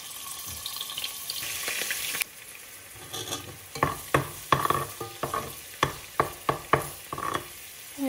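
Two ginger-garlic paste cubes drop into hot oil in a pan, a steady hiss giving way to sharp bursts of sizzling and repeated utensil scrapes and taps as they are stirred, close and fairly loud.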